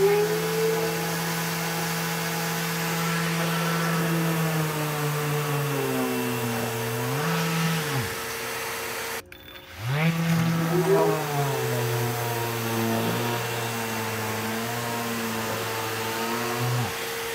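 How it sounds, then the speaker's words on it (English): Electric sander running together with a boosted shop dust collector, a loud steady motor whine that dips and bogs briefly near the middle, then recovers and holds steady. "We're gonna turn on our sander."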